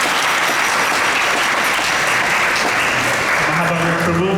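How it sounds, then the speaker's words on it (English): A lecture audience gives a big round of applause, a loud, even wash of clapping that holds steady throughout, with a faint voice coming in near the end. "Can we give a big round of applause to His Grace Mahabhagat Prabhu?"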